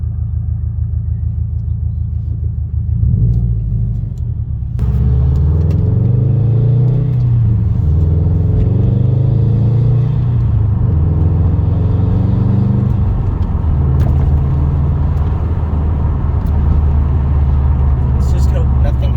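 A 2017 Subaru STI with new fuel lines and small bolt-ons drives at light throttle, its engine a steady, loud low rumble that rises and falls gently, with a voice talking over it.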